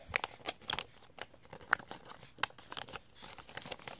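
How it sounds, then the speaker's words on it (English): Paper being folded and creased for an origami butterfly, with crisp, close crinkles and sharp rustling snaps coming in quick irregular bursts. "And fold these down. And then fold this up."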